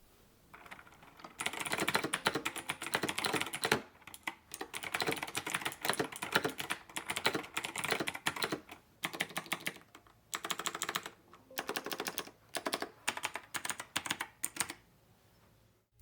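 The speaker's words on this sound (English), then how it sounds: "here is a quick typing test on the Razer Blackwidow V4 Pro with the Razer green clicky mechanical switches" Typing on a Razer BlackWidow V4 Pro keyboard fitted with Razer green clicky mechanical switches: dense, rapid runs of sharp clicks with short pauses between bursts, close up and alone.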